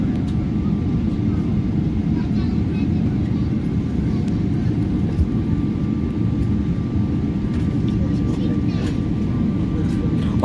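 Airbus A320neo airliner taking off, a steady, loud, broad jet roar that holds constant throughout, with people talking faintly over it.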